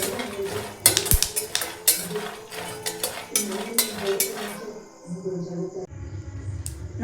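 Peanuts roast in a pan while a metal spoon stirs them, producing repeated scraping and clinking against the pan along with a rattle of nuts; a voice talks over part of it.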